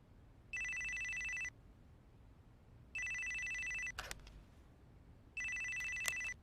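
A Motorola mobile phone rings in the Yakuza 4 video game, three evenly spaced electronic ring bursts of about a second each with quiet gaps between, clear and fairly close, no talk over them.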